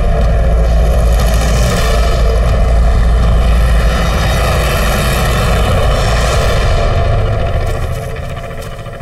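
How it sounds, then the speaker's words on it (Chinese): Propeller aircraft passing overhead in a wartime scene, a loud, continuous droning roar that holds steady and then begins to fade toward the end. "飞机过去了"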